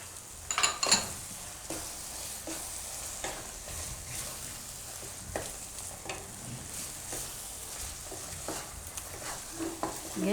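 Palak paneer bhurji sizzles steadily in a pan as a utensil stirs it, giving a continuous frying hiss with light scraping strokes and a louder clatter near the start.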